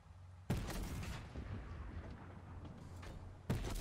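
A tank firing in a video game, two heavy booming shots about three seconds apart, each followed by a long rumbling decay, fairly faint overall.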